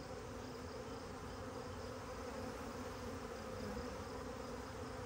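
Honey bees buzzing as they settle into a new hive after being installed from a package, a faint, steady swarm hum running continuously with no speech.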